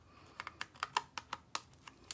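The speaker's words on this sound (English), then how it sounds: "I'm going to just trim that down a little bit" Cardstock being trimmed for a handmade card, a quick run of about a dozen soft, crisp snips or cuts, close and quiet, with no talking.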